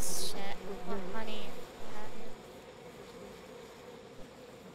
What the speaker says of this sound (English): You know how you kill bees?